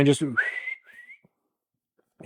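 A person whistles a short rising, bird-like note to imitate a bird while bear baiting, following a brief bit of speech, then silence.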